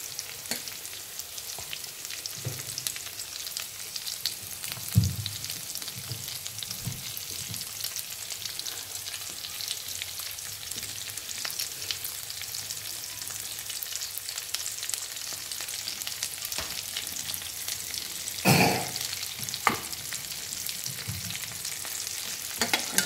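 Stuffed okra (bharli bhindi) filled with spice masala fries in oil in a pan, making a steady close sizzle with occasional light stirring clinks and one louder scrape, and no talking.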